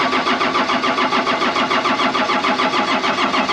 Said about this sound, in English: so we crank the engine over again